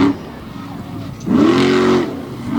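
The Raminator monster truck engine revs up hard during a best trick competition at a Lima, Ohio arena, a low idle surging into a loud, sustained roar before easing back down.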